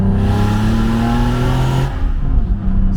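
A turbocharged BMW E36 accelerates hard, its engine roaring loud and close with a rising pitch before the sound abruptly cuts to a rougher, lower rumble near the end; no speech.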